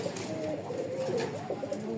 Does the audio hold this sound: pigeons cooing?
yes